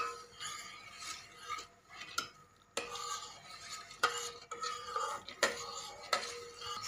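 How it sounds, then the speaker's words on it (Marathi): A spoon stirs sugar into milk in a metal pot on the stove, giving repeated light scraping and clinking strokes against the pot in an irregular rhythm, fairly quiet and close. "आणि आता आपण याच्यात साखर टाकूया. साखर अशी विरघळवायची."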